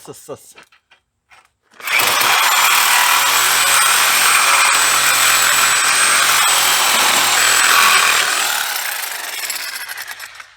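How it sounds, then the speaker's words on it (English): Sawzall reciprocating saw cutting parts off an antique sorghum press, a loud, steady buzzing cut running continuously for about eight seconds after a few brief knocks, then tapering off near the end. "let me get my Sawzall out and cut them off"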